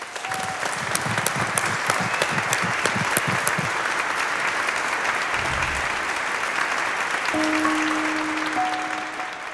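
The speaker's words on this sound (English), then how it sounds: "Let's give one final applause to all our speakers tonight." Sustained applause for the speakers at a college scholarship night, a steady, even wash of many hands clapping throughout, with a few brief tones and a low thump partway through.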